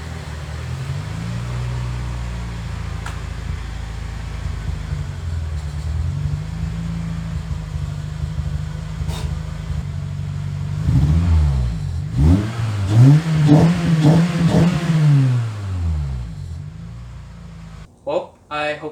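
Toyota Celica engine idling and rumbling up close as the car pulls into a garage, a low steady drone that surges with revving toward the end, with brief talk over it.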